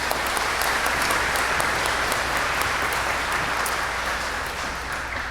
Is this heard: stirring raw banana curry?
no